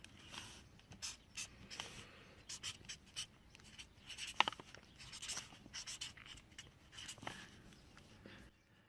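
A pen scratches out notes on paper with quick, irregular strokes and taps, faint and close, continuing throughout with no talking.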